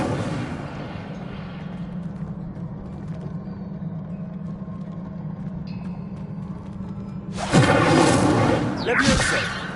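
The Incendio fire spell cast in the video game Hogwarts Legacy: a low steady game hum gives way to a sudden roaring whoosh of flame that stays loud for about two seconds, then fades.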